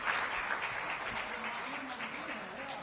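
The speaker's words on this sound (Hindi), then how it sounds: "आप लोग ताली के बढ़िया से बजा के ताली का स्वागत, गड़गड़ाहट से ताली का स्वागत कीजिए।" Crowd at a political rally claps in a brief, even wash of applause, with a voice speaking over it.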